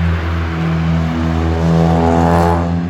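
A car engine hums loudly and steadily nearby, swelling slightly as the vehicle moves past, with no voices.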